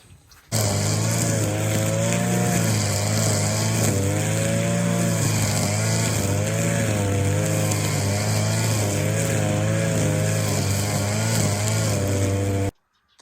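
A motorised grass trimmer or mower runs close by in a Ukrainian village yard overgrown with nettles, its engine droning loudly and continuously with slight wavering pitch as it cuts, then cutting off abruptly at the end.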